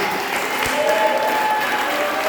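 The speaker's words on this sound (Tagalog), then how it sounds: "Yung malakas na palakpak sa Panginoon" A church congregation clapping steadily and loudly during a Sunday service, a dense continuous patter of applause filling the room from start to end.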